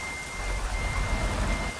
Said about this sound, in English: Raining now as well.